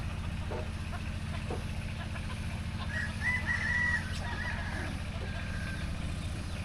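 Hens and chickens in a Lao village cluck softly in the background, with a brief rooster-like call in the middle, over a steady low hum.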